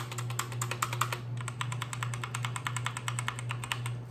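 Typing on a full-size Redragon keyboard with a muffled, membrane-like feel: a quick, uneven run of soft keystrokes, fairly close, over a low steady hum.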